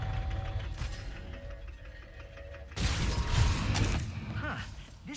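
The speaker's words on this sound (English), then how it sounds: "This lock's controlled by a bolt crank." A bolt-crank lock mechanism in the Ratchet & Clank video game gives off mechanical creaks and ratcheting clicks, quiet at first and then swelling into a louder, denser burst of grinding gear noise partway through.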